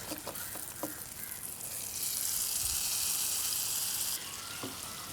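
A hot roasted mixture with sesame poured in, setting off a bright sizzling hiss that rises for a couple of seconds and then eases, with a few light clinks nearby.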